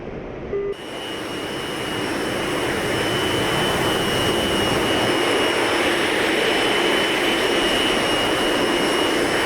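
A jet aircraft flying in the DCS World flight simulator roars in after a brief quiet moment, building into a loud, steady, broadband turbine rush with a high whine that holds to the end.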